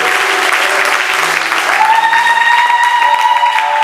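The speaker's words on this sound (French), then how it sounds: "obeteli nzambe wana mapoko makasi na milolo" Church congregation at a Sunday service applauding God, a dense burst of loud clapping that holds steady throughout, with a tonal whistle or cheer rising over the clapping partway in.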